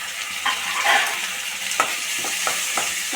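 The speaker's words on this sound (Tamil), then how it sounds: "தக்காளி சேர்த்துட்டு நல்லா கிண்டி விடுங்க" Tomatoes fry in an onion gravy pan for an ivy gourd (tindora) curry, with soft sizzling under a few light spoon scrapes and stirring knocks.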